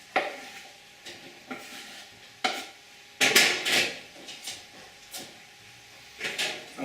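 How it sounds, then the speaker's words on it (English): Mushrooms being put into a pan, producing a series of soft, separate clatters and scrapes, a louder cluster in the middle, set against quiet kitchen background. "Take the mushrooms, we put them in the pan."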